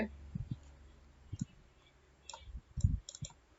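Keyboard keys pressed in short clusters while copying and pasting spreadsheet formulas, a few soft clicks near the start and a denser burst of taps toward the end, close and quiet.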